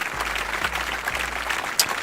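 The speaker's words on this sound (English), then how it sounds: "Hand clap." Steady, fairly loud clapping like a small burst of applause, continuous for a couple of seconds with a sharper clap near the end, no talking over it.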